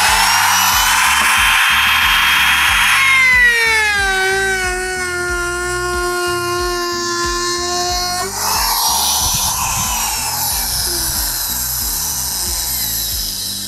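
A MOLLAR ET3701 mini wood trimmer router with a 6 mm collet runs steadily with a loud, sustained whine that shifts pitch as it cuts along the edge of a wooden workpiece, close up throughout.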